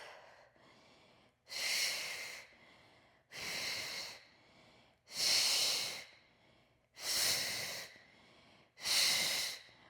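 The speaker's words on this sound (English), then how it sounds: "Breathing deep." Five slow, deep breaths during a mat Pilates arm workout, each a long airy inhale or exhale. They come close to the microphone at a steady rhythm with quiet pauses between.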